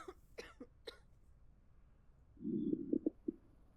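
A patient in the video game Quarantine Zone gives a few short coughs, then a low, gurgling rumble with several throaty pulses, close and quiet against near silence.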